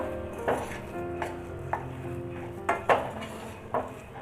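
Black urad dal flour is stirred through sugar syrup in a pan, with a spoon clanking and scraping against the metal in several sharp knocks over a low background hum.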